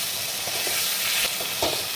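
Spice paste frying in oil for a spicy Bengali tengra fish curry, a dense steady sizzle with soft scraping strokes of stirring, close and continuous.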